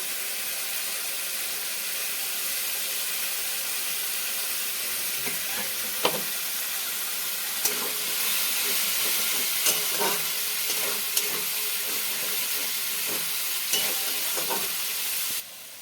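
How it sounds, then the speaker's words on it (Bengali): Sugar frying in a pan for paneer masala, a steady close sizzle and hiss with occasional sharp clicks of stirring, and no talking. "একটু চিনি এটাতে দিয়ে দেবো একটু ভাজা ভাজা হলে বন্ধুরা"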